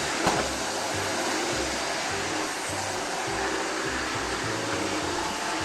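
A Philips Marathon or Arçelik 4540 vacuum cleaner runs steadily close by, a broad continuous roar with a low motor hum and no talking over it.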